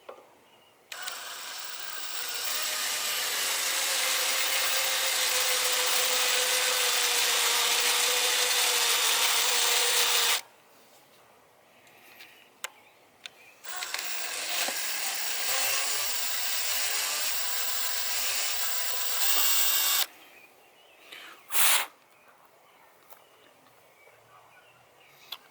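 A power drill set to its slowest speed taps threads, with two long runs of steady close whirring separated by a pause with faint handling noises, and a brief knock near the end.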